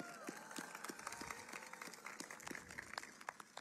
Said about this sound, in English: Please, round of applause for the people who make this possible.